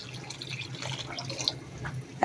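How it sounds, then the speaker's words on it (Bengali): Water poured into a cooking pot to make a simmering broth, a thin trickling splash close by that swells into a louder gush at the very end, with no talking. "আমি একটু ঝোল দেবো এখন সিদ্ধ হওয়ার জন্য। যে আমি জল দিয়ে দিচ্ছি"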